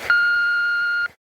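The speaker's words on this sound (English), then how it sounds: "it's still beeping" A single steady electronic beep, a clean high-pitched tone holding for about a second before cutting off abruptly, close and clear with no talk over it.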